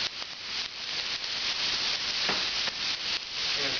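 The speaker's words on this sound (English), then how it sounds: "In the same hot pan, we're going to add our onions" Onions hitting a hot pan give a steady, close, even sizzle and hiss, with no talking over it.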